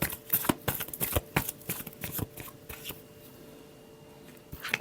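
Tarot cards being shuffled, a run of quick crisp riffling slaps and flutters close by, then quieter handling and a short final flick, with no talking.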